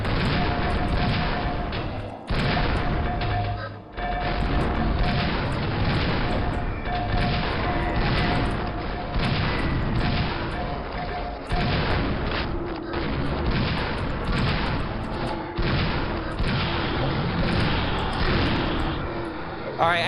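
Rocket explosions and weapon fire in LibreQuake, a dense, loud, continuous barrage of booms and blasts with brief gaps, sustained throughout.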